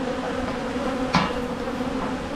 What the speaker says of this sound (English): get rid of the bees there.